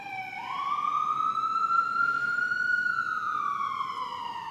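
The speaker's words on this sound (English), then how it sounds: "Without fail, the ambulance or the fire truck always comes through." An emergency vehicle siren passes outside a church, a loud continuous wailing tone that rises and slowly falls over several seconds, steady and alone without talk.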